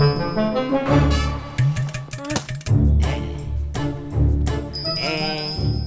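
A prayer bell rings during a Hindu aarti at home, with repeated bright metallic strikes that ring loudly and close among other clanging ritual sounds across several seconds.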